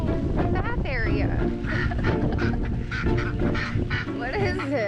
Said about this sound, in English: Oh, the ducks are playing in their little bath area.